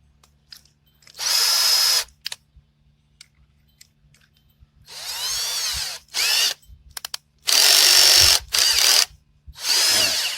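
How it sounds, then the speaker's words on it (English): A power drill runs in several loud bursts of one to two seconds each, driving a screw through a clamp while mounting a battery and securing a transducer cable, with faint clicks and handling noises in the gaps between bursts. "You want to turn your torque down on your drill bit"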